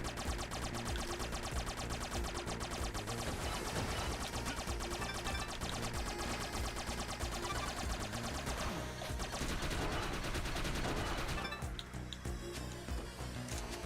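Rapid gunfire from a weak secondary weapon in the retro action game Mummy Demastered, a relentless stream of sharp clinking shots at steady rhythm over game music, loud and continuous throughout.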